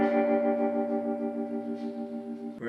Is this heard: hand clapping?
no